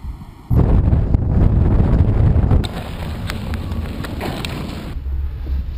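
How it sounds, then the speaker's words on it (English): Strong wind buffets the microphone on a sunny snowy ski slope in Japan, a loud rumbling roar that eases after a few seconds but keeps blowing steadily throughout. "It's pretty windy."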